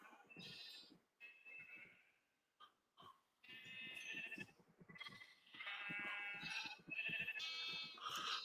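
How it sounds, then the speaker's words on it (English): Sheep in the Minecraft video game bleat repeatedly, several overlapping nasal calls in bursts with short gaps, fairly loud and close, no speech. "This will be enough sheeps for now."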